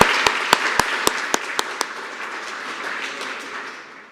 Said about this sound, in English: Let's give another round of applause to Mr.